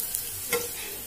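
Potatoes stirred in hot frying oil for an Assamese green-leaf fish curry, a steady close sizzle with a single scrape of the spoon partway through.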